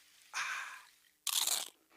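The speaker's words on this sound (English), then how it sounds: "It's the crisp crunch of that first nacho chip." Two sharp, crisp crunches of teeth biting into a nacho chip, each a loud, close burst of brittle cracking followed by a brief fade, separated by a short quiet pause.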